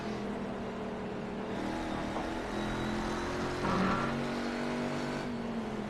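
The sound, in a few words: Corvette race cars accelerating on a racetrack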